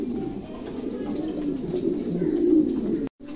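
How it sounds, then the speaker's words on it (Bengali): Mundian pigeons, a grizzle-coloured pair among them, coo in a low, steady, continuous murmur close by, with no talk and a brief drop-out near the end. "চমৎকার কবুতরগুলো"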